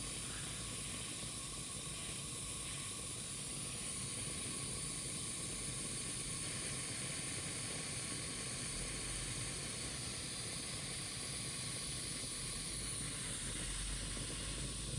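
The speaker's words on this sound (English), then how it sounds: "I'm getting ready to lose some steam. There we go, lifting." A steady, hissing rush of steam from the safety valve of a gas-fired Mamod model steam engine, a continuous high-pitched release over a low mechanical drone.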